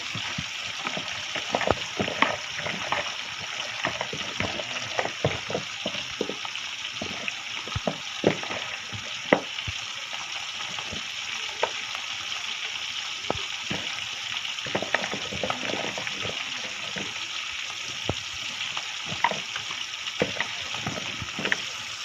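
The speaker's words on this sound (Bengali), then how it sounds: "মাছটা ভাজা হয়ে যায় এবার বেগুনটা ভাজবো" Surma fish frying in a pan of hot oil, a steady close crackle and sizzle with frequent sharp pops and spits spread irregularly throughout, without any talk.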